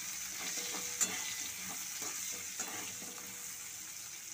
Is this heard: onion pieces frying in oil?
yes